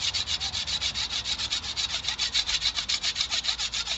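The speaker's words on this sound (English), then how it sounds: "rough up that chaff. Scrape off as much of it as you can" Dry, rhythmic scraping as chaff is roughed off dogbane stems, with about thirty quick, even back-and-forth strokes, close and steady, with no talking.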